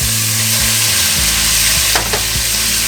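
Sausage and bacon frying together in a hot pan, a loud steady sizzle and crackle throughout, with low scraping thumps as the pieces are moved and settled.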